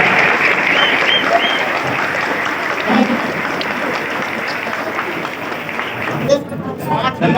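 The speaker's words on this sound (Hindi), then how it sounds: "जोरदार ताली बजाकर के स्वागत करें" Loud, continuous applause welcoming women party workers at a political gathering, thick crowd clapping throughout with murmured voices underneath.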